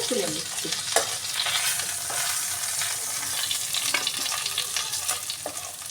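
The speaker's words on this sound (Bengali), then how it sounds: "এবার আমি একটা একটা করে তুলে নিচ্ছি।" Pieces of masala fish fry lifted one by one out of hot frying oil: a steady, close sizzle with scraping stirs and light utensil clicks throughout.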